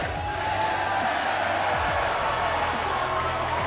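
A wrestling arena crowd in WWE 2K19 roars steadily in a continuous wash of cheering, loud and unbroken for the whole stretch.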